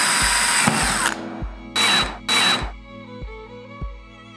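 A power screwdriver drives a 3.9 x 9.5 mm screw into a door profile, giving three short loud whirring bursts separated by pauses, with several sharp clicks as the motor stops.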